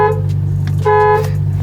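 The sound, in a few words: BMW F30 335i car horn honking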